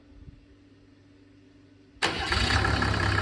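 A Mercedes OM603 3.0 diesel engine, started without glow plugs, cranks and catches abruptly, then settles into a loud, steady, rough diesel idle heard close up after a quieter low hum.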